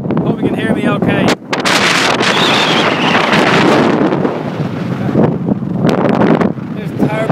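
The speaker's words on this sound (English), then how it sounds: "It's windy at the best of times today, so I can imagine it's going to be pretty windy on this ferry." Strong wind buffets the microphone with heavy rumbling gusts on a ferry deck, over the steady drone of the ferry moving through water, sailing from Tarbert, Ireland.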